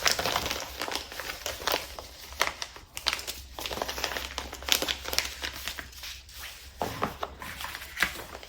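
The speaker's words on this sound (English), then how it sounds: "I'm just gonna throw it in a padded envelope." A cardboard-wrapped item slides into a padded envelope, giving about eight seconds of steady crinkling and crumpling with repeated rustling bursts close by and no talk.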